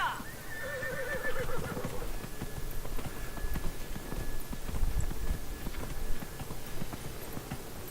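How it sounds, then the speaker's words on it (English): Horse in Dragon Age Inquisition neighs and whinnies near the start, followed by steady clip-clop of hooves running over ambient game sounds for several seconds. "Come here. Come here, horse."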